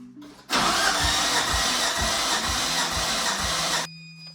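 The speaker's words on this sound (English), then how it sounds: "we'll start cranking the old motor up and seeing how everything looks" A Nissan RB25 engine cranks over on the starter for a compression test, a rapid, even chugging pulse lasting about three seconds before it cuts off abruptly. The sound is close and loud, with no speech.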